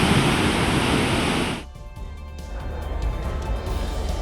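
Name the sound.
floodwater flowing over a footbridge path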